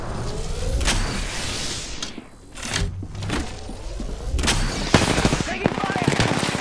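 Rapid automatic gunfire from a shooter video game, fast staccato volleys in several bursts with short pauses and game effects in between.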